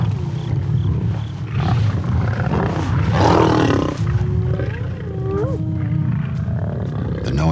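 Lions and hyenas clash over a kill on the African savanna, a dense, continuous din of roaring, growling and whooping with rising hyena-like cries, close and loud throughout.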